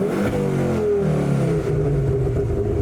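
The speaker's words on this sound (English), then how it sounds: "Okay, revving sounds the same." A Ford Focus ST engine revs steadily and loudly with traction control off, its drone rising and easing across the clip with no talking over it.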